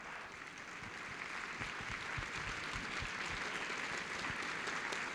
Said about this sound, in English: Let's give Bill another round of applause.